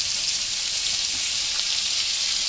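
Chicken pieces sizzle and fry in a pan with sautéed onion and garlic for lugaw, a dense, steady hiss close up with no talking.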